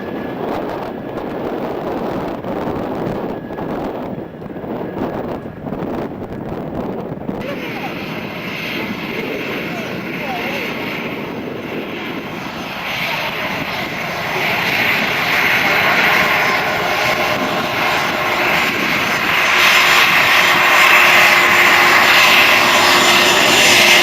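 Red Baron Squadron planes at the Andrews AFB air show, a propeller drone that starts distant under a crowd and announcer and swells to a loud close pass toward the end.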